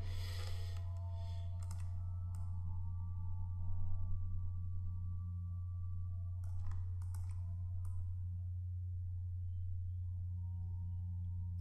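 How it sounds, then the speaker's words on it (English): A computer mouse clicks repeatedly during image editing, in scattered bursts of quick, light clicks heard over a loud, constant low electrical hum. "So now I'm just clicking several times and going over this"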